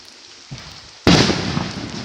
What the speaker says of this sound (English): Fireworks! Woo!